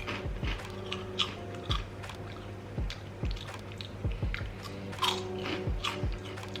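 Crisp crunching bites and chewing on crunchy, airy Nepali onion ring snacks, repeated irregularly close to the ear, with no talking.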